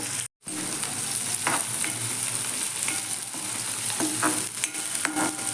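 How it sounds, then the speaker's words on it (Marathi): Onion fries with cumin, cinnamon and cardamom in a pan, sizzling steadily and loudly while a spoon stirs and scrapes through it, with no talking. "कांदा आता चांगला भाजून घेऊया"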